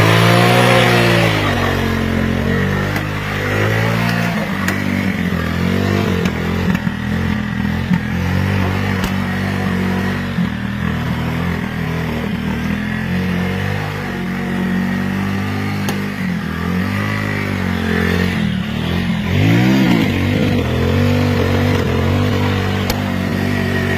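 A motorcycle rigged to plough a flooded rice field drones steadily with a mid-pitched engine, rising and falling as it revs and labours through the mud, loud and close without speech.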